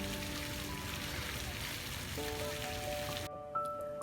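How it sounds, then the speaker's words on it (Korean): In a summer garden at Deoksugung Palace in Seoul, water splashes from a fountain, a soft, steady patter with faint tonal sounds over it that cuts off sharply near the end. "예쁜 정원과 분수대에서 나오는 시원한 물소리."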